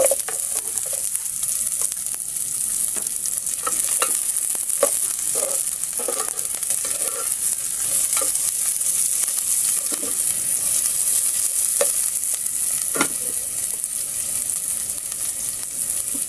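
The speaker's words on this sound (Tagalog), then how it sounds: "Lagay na rin natin yung ating sibuyas." Onions sizzle steadily in a pan of sautéed garlic, with a broad continuous hiss and scattered scraping stir strokes, loud and close with no talking.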